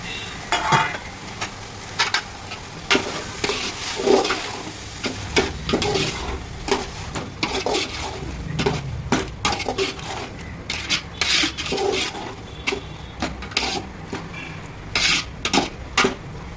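Tomatoes fry for a country chicken kurma while a spoon stirs them, giving a steady sizzle broken by rapid scraping and clattering strokes against the pan, close and loud without talk.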